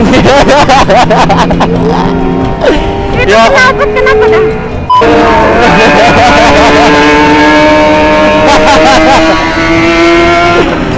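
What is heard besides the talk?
loud motorcycle exhaust revving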